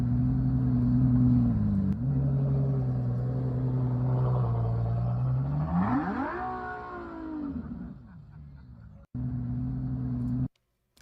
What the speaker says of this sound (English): That's a nice car.